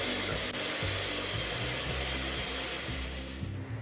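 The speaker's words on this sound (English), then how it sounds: "I'm going to beat my butter really well." Electric hand mixer beating very soft room-temperature butter for buttercream icing, a steady loud motor whir with a faint rhythmic knock of the beaters against the bowl, running without pause throughout.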